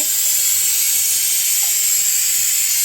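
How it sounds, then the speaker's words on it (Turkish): A handheld steam cleaner blasting steam over iron stove grates, giving a loud, steady, unbroken hiss that holds its level throughout, with no voices. "oca, ocağın demirlerini şöyle buhar makinesiyle temizliyoruz arkadaşlar"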